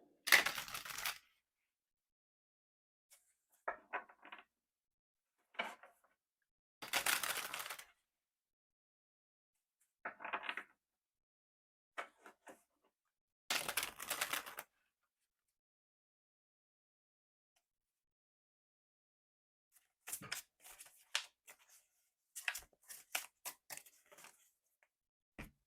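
Tarot cards are shuffled by hand in separate bursts of riffling and slapping, crisp and close, broken by long quiet gaps and ending in a cluster of quick flicks.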